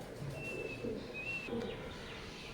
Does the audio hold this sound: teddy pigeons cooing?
yes